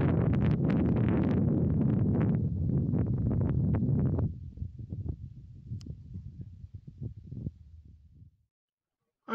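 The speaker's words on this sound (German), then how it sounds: "Ganz schön windig hier." Strong wind buffets the microphone on a mountain pass in Kazakhstan near a glacier, loud roaring gusts at first that drop to fainter, intermittent rumbles before fading out.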